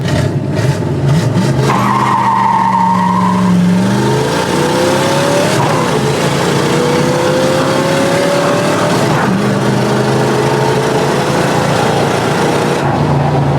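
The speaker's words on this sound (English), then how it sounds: "Should I go for the power shift, everybody?" A 4-speed Chevrolet Camaro Z/28, unearthed after about ten years of sitting, revs and power shifts, its engine rising and dropping through gear changes with tire noise, loud and close throughout.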